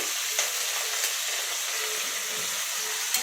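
Green chillies, curry leaves and onion frying in a pan for a tomato egg curry, a constant close hiss and crackle with a few faint stirring taps.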